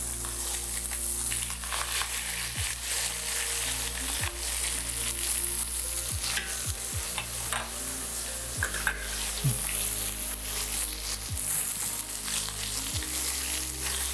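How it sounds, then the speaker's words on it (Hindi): Chopped castor leaves frying in a hot pan, a steady dense sizzle with intermittent scraping and clinking of a spoon stirring them, close and continuous without any talk. "इन पत्तों को अच्छे से चलाना है आपको"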